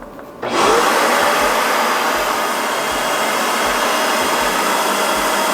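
A Shark Carpet Xpert carpet cleaner switches on and runs with a loud, steady motor whine and airy rush, holding constant at close range with a faint rhythmic pulse underneath.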